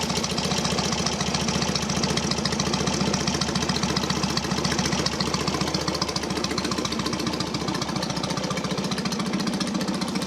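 A restored Norton P11 Ranger motorcycle engine runs steadily nearby, a loud, rhythmic, throbbing mechanical beat with knocking pulses and no talking over it.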